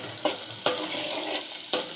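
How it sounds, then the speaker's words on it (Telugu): Onions, green chillies and mint leaves fry in hot oil for a chicken curry, a steady bright sizzle with a few louder crackling stirs breaking through, close and alone. "ఆనియన్స్ బాగా ఫ్రై అవ్వాలి"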